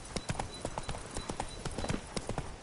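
Geralt's horse Roach clip-clops in The Witcher 3, crisp close hoofbeats in a quick uneven trotting rhythm, alone without talk.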